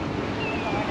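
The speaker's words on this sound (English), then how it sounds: "Can you hear the river?" A river rushing past in a mountain area with rhododendrons, a loud, steady broadband roar that fills the whole moment without a break, mixed with some wind.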